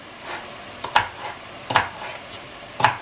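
Meat browning in a frying pan while being stirred, a soft sizzle broken by three or four sharp scrapes and knocks of the utensil against the pan.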